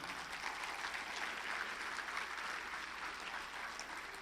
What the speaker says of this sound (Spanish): El que lo crea, déle un aplauso a Jesús.